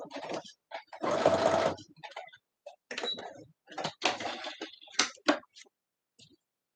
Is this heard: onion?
no